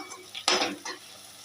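Masala sizzles in hot oil for gongura prawn curry as a spoon stirs it, giving one sharp clattering scrape and a second softer stir over a steady low fry.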